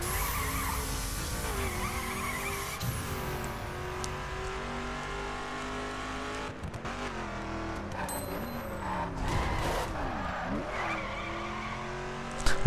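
Tires squeal and skid repeatedly over a steady racing-car engine roar in The Crew video game, with pitch sweeps as the car slides and accelerates, loud and continuous.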